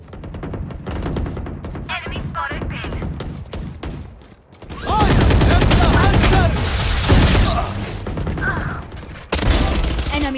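Gunfire in the video game Free Fire: rapid bursts of automatic shots and clattering weapon mechanics, loud and dense, with brief gaps and a heavy sustained volley in the second half, game voice callouts mixed in.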